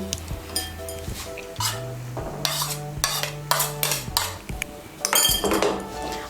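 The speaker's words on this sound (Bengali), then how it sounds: "এভাবে খন্তা দিয়ে নাড়তে থাকবো" A metal spatula stirs and scrapes a thick besan batter in a pan, with grated boiled potato about to go in: steady rhythmic scraping and clinks against the pan, close and clear, with no talk.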